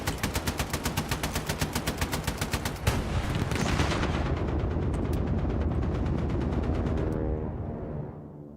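An aircraft strafes a hill with gunfire in Hell Let Loose Vietnam: a loud, rapid burst of evenly spaced shots, then a heavy sustained roar of fire and impacts that fades off toward the end.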